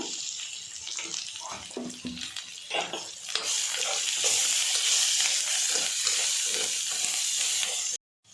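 Sliced onions fry in a pan with a loud, steady sizzle and some stirring clatter, building in intensity before stopping abruptly near the end.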